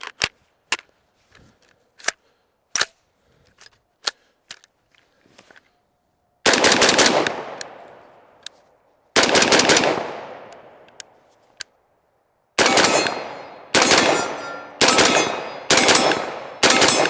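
A Primary Weapon Systems MK114 rifle fires Federal .223 ball ammunition, loud sharp close-range shots with ringing decay, several spaced rounds followed by a quicker run of closely repeated shots, with clicks and metallic handling noises earlier.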